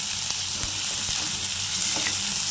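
Chopped large onions sizzle steadily in hot oil for soya thokku, a close, continuous frying hiss with a few soft clicks of stirring.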